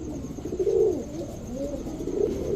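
A pair of Indian Kaldam pigeons coo close by, soft throaty rolling calls repeating in a slow rhythm over faint background hum, with no talking.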